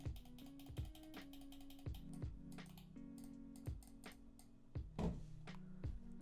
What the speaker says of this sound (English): I will now give you a sound test of the buttons.